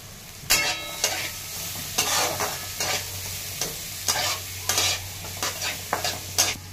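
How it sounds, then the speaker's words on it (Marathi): Onion, green chili and carrot stir-fried in a pan for corn fried rice, with repeated scraping stirs at an uneven rhythm over a low steady hum, close and fairly loud, no talk. "कांदा आणि हिरवी मिरची, एक गाजर टाकून घेत आहे."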